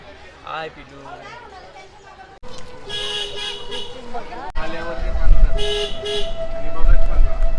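A car pulls up with its horn honking in repeated toots over the rumble of traffic at Katraj Park, as people chatter nearby and the sound grows louder.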